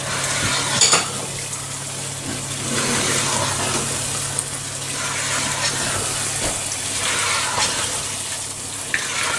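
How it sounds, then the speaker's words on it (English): Steady hissing sizzle of chicken frying in a pan on high heat, a constant broadband wash with occasional small pops and clatters, no one speaking. "So now you're just frying this on high heat"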